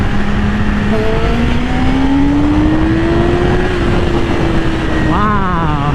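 A 2020 Yamaha R6 motorcycle engine revving hard and close, a loud continuous whine that climbs steadily in pitch, then dips and rises again near the end, with faint talk beneath it.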